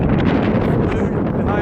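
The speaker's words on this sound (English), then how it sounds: "There's a bit of a wind. It's gusty. It's quite a cold breeze." Gusty wind on an exposed hilltop in the Brecon Beacons buffets the microphone, a loud, continuous low roar that fills the whole short stretch.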